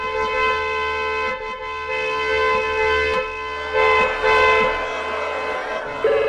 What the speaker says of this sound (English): continue to lay into their horns which honk